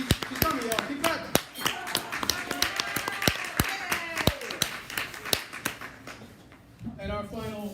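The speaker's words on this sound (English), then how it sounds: "Keep clapping." Scattered hand claps from an audience greeting a panelist at a live event in DC, sharp and irregular, thinning out near the end as a voice starts talking.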